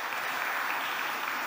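An audience at a medical congress opening ceremony in Moscow applauds a surgeon walking to the podium, producing a uniform, fairly distant sheet of clapping that holds steady for the whole short stretch.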